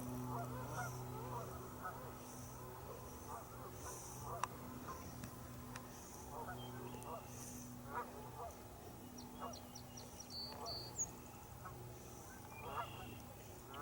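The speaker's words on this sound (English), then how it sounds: "there's lots of geese out here, and some other birds too, some other waterfowl" Geese honk repeatedly across a marshy peninsula wetland with other waterfowl, faint and somewhat distant, scattered calls over a low outdoor background.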